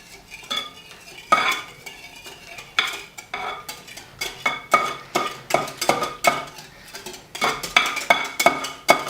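A utensil stirs pancake batter in a bowl with quick, irregular scraping clinks close by, coming in bursts with short pauses between them.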